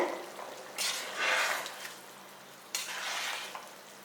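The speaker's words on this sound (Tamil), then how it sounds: "பாருங்கள், நல்லா கொதிச்சுக்கிட்டு இருக்கு." Bubbling and sizzling from a pot on the stove during mutton biryani cooking come in bursts, with a stirring scrape and soft kitchen clatter, fairly close.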